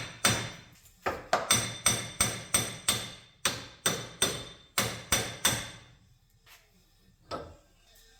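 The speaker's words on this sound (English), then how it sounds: "Hammer's been around for thousands of years, it still works today." Sharp metallic hammer blows strike a Hyundai Santa Fe wheel bearing in a steady run of about a dozen loud, close impacts, then a brief pause and a couple of lighter taps.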